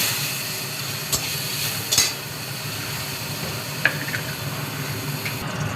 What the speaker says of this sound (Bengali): এবারে তেলে দেব কাঁচা লঙ্কা